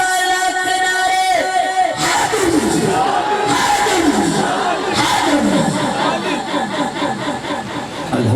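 A large crowd at a gathering honouring Makhdum Pir Syed Masood Husnain Shah shouts religious slogans in unison with raised hands, a leader's call giving way to loud massed roars that repeat in bursts.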